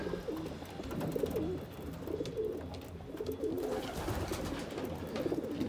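Pigeon cocks coo in a breeding loft, a close chorus of overlapping rolling coos that swell and repeat steadily throughout.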